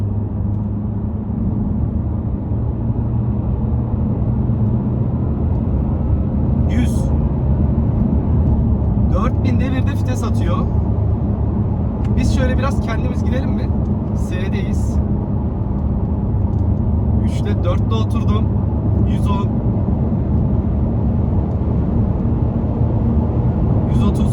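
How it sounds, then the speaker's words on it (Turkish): A Volvo V40 D2 pulls at full throttle inside the cabin, a loud continuous low diesel drone and road rumble throughout, while someone talks over it. "72'deyim şöyle bir dip gaza çektim arkadaşlar."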